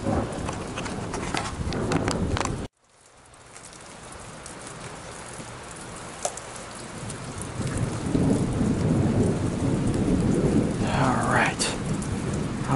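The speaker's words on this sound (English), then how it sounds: "I'm going to wait for the rain to stop and the lightning to move away" An outdoor thunderstorm brings steady, heavy rain and deep rolling thunder. After a brief cut the downpour returns, swelling louder and closer over time.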